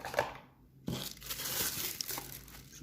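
Close plastic crinkling and rustling in short bursts, a brief handling sound with a few crisp crackles, quiet and without speech.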